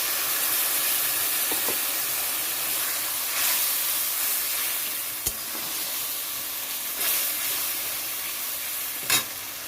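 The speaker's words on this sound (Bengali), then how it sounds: "তো এখানে আদা জিরা বাটা দিয়ে দিচ্ছি।" Ginger and cumin paste hits hot oil with fried onions in a wok, giving a steady close sizzle and hiss with a few brief stirring clinks and scrapes, no voices.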